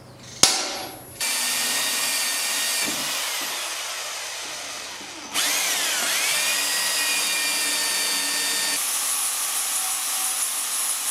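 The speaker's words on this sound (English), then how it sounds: "now we'll just drill some holes." A power drill bores holes in timber logs for a rustic outdoor table, with a steady whine that cuts off and restarts, changes pitch under load, and then runs on continuously close by.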